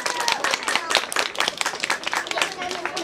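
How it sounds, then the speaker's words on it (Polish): Close, brisk applause from an audience at an outdoor community picnic prize giving, dense rapid hand claps sustained for about three seconds at moderate loudness. "Wielkie brawa!"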